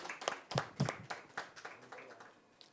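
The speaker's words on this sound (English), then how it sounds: "please give them a big round of applause." An audience at a press conference for the Filmfare OTT Awards 2024 claps, starting with a few sharp, distinct claps that swell briefly and then fade into scattered, thinning applause.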